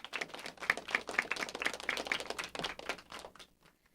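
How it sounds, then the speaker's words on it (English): Scattered applause from a small audience honoring outstanding scholars at an academy ceremony, fairly quiet and thin, tapering off toward the end. "Let's get a round of applause for all of our outstanding scholars here today."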